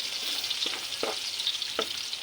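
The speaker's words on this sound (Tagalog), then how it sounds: "Ayan po, igigisa na po natin." Garlic sizzles steadily in a hot pan, sautéed for adobo, with a constant close frying hiss and a few soft stirring clinks, with no talk.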